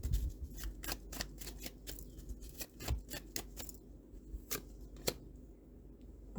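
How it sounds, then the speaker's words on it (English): Tarot cards are shuffled and drawn close by in a quiet room, giving a rapid series of soft riffling snaps that thin out into a few scattered single card flicks. "I need to pull more cards, because like I said, I need more cards here"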